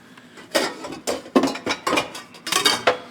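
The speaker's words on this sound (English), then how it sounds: "I guess I should get a bowl of boiling water for the ramen" A bowl handled in a home kitchen while fetching boiling water for ramen, a quick series of close ceramic clinks, knocks and scrapes against dishes and cutlery, irregular and fairly loud, with no voices.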